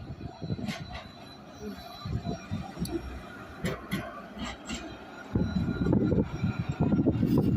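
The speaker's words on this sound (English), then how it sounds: "229 going into Clifton South Tram stop." Tram 229 pulls into Clifton South tram stop with a low rumble and scattered clanks and squeals, the rolling noise swelling louder near the end, heard from the platform.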